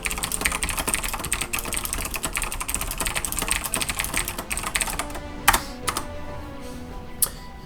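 Rapid keyboard typing clatters for several seconds while chatting in a Cossacks 3 online team match, keys dense and close, then thinning into a few isolated sharp taps near the end.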